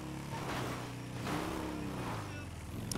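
A motorcycle engine in the GTA NoPixel roleplay video game, a steady droning hum that rises and falls as the rider accelerates, moderately loud with a faint click at the end and no clear talk.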